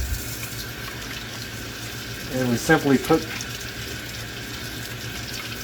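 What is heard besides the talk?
water running from a tap into a sink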